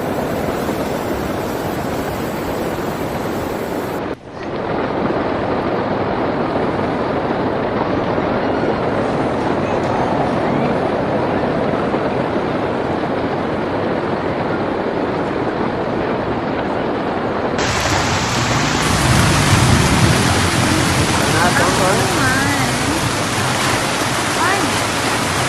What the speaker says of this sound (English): Currently, the wind is blowing here at a speed of 113 km/h